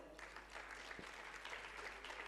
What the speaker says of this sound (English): Big round of applause for her again.